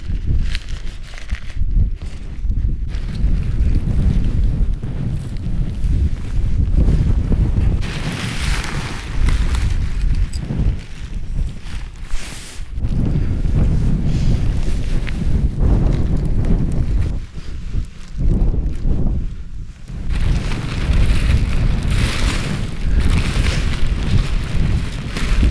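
Strong, gusty wind buffets the microphone at a campsite during wet weather, roaring and dropping in waves for a long stretch with no talk.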